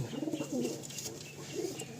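Giribaj pigeons in a pen give repeated low, burbling coos, close and clear, in short rolling phrases over quiet background.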